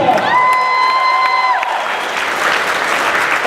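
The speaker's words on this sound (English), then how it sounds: "how about one more round of applause for Pep and Alicia?" Loud, dense applause from a ballroom dance audience for a dancing couple, continuous clapping with a few cheers, partly under a held musical tone at the start.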